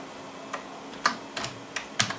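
Keys tap on a computer keyboard as text is entered, a few sparse, crisp clicks in small bursts, close and quiet with no speech.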